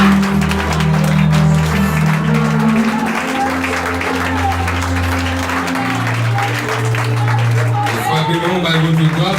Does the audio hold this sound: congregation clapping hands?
yes